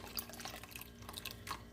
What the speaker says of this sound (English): we are going to add in that lemon juice